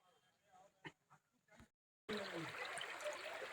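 The Sonjhari river runs through the dense Bastar forest, a steady close rush of flowing water that cuts in abruptly after a quiet stretch of faint ambience with a few soft knocks.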